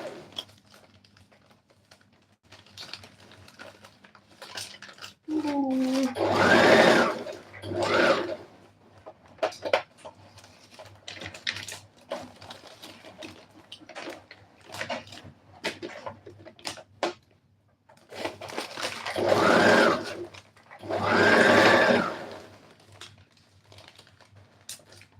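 A sewing machine stitches a corset made from plastic bag material, running in loud mechanical bursts between quieter clicks, rustling and handling sounds, with no voices.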